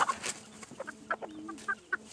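Several hens, including a small stunted brown one, cluck in short bursts in a backyard coop, with soft repeated calls spaced across the moment over a faint steady background hum.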